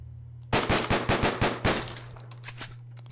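Gunfire in the video game Deadbolt: a rapid burst of about seven sharp shots over a steady low hum, followed by a couple of fainter impacts and a quieter tail.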